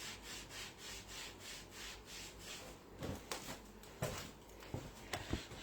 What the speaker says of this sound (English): And just give it a rub down.